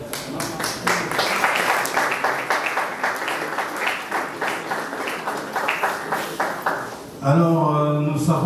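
Loud, close applause from colleagues filling a parliamentary assembly hall, rapid rhythmic clapping that ends abruptly as a voice begins speaking.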